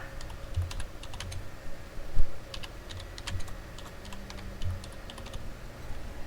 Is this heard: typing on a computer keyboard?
yes